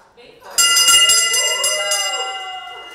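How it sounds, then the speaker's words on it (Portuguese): A hospital bell rings out several times in quick succession as a cancer patient is discharged, bright and close, its tone lingering and fading, with voices murmuring beneath. "Ganhou alta e pôde tocar o sino."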